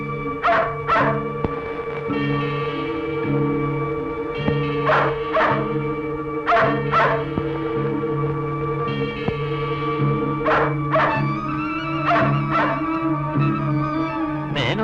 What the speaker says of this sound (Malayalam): ഇത് മാലുവിന്റെ നായല്ലേ?